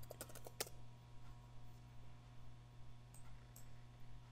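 Someone types on a computer keyboard while working in PowerPoint: a quick cluster of soft clicks at the start, then a few scattered keystrokes over a steady low hum.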